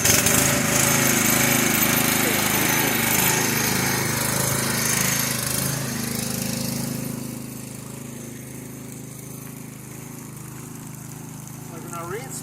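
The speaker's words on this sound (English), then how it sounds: "Make sure the pressure washer is on and we are ready to go." A pressure washer running during a Sola-Tecs brush setup, a loud, rough, continuous motorized roar for about seven seconds before it settles to a quieter, steady hum.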